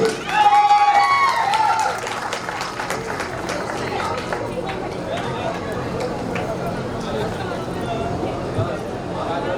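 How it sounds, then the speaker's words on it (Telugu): Applause from an audience at a school get-together function, a dense wash of clapping that starts loud over a brief voice and settles into steady, sustained clapping from a large crowd. "చప్పట్లు కొట్టాలి."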